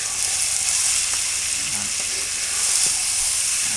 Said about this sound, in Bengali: ওই সরিষার তেলে ভাজা হচ্ছে